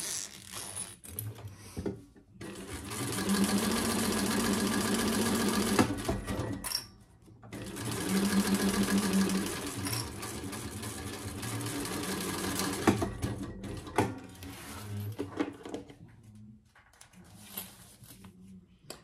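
A sewing machine top stitches a Carlotta commuter bag in two long, fast, steady runs of rapid needle clatter, separated by pauses with handling clicks and shuffles, then short bursts of stitching near the end, close and loud.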